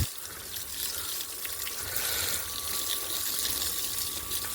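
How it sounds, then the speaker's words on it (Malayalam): Water is poured over eight-month-old buffalo calves being bathed, a steady gushing, splashing wash that holds fairly even and close for the whole stretch, with no talk. "വെള്ളം ഒഴിച്ചിട്ട്"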